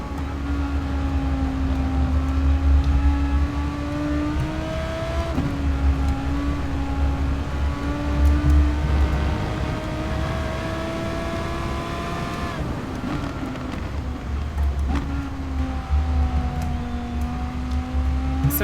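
An Audi R8 race car engine in Gran Turismo Sport drones steadily with a strong tonal whine, shifting pitch as it revs up, drops through gear changes and climbs again, loud and continuous with no talk.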